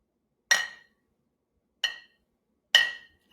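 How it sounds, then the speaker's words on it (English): Two glasses clink three times, bright high-pitched rings spaced about a second apart, each decaying quickly into silence. "The sound of two glasses clinking has a high pitch."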